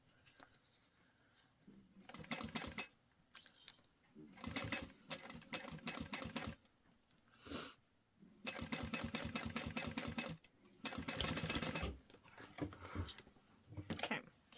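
A sewing machine stitches a seam for a baby sling in short repeated bursts with pauses between, including back stitching at the seam's edge, close and moderately loud.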